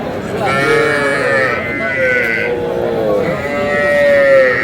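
A bull calf at the Aftabganj cattle market gives two drawn-out, wavering moos in close succession, loud and near, with market chatter underneath.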